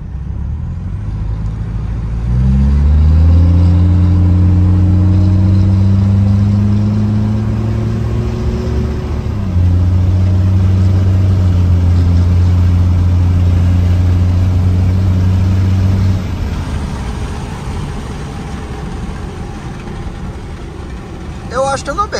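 A Mitsubishi Triton pickup fitted with 315 tyres pulls away from a stop in first gear, its engine rising in pitch through a long, loud acceleration, easing off briefly and then holding a steady drone before settling back.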